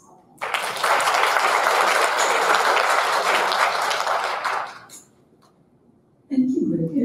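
Audience at the Women's Foundation annual meeting breaks into loud, full applause that holds steady for several seconds, then fades out before a voice resumes speaking.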